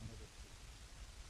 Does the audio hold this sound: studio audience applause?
no